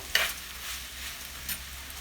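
Chopped mushrooms for a Kerala-style roasted-coconut mushroom curry are tossed in a frying pan. Two brief, soft scraping strokes sound over a faint, steady sizzle.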